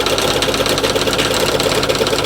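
An old Ford tractor engine idles steadily up close, a loud, continuous mechanical chug with a fast, even pulse throughout.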